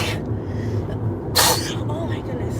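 A single sharp sneeze bursts out amid quiet background noise, followed by a soft murmur of speech.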